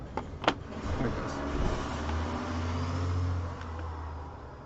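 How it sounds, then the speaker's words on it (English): A loud truck rumbles past outside with a steady low engine drone that builds and fades over several seconds, heard from indoors during a mold-making session with no talking. "Loud Truck."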